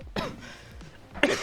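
Two rough coughs, close and moderately loud, separated by a short pause.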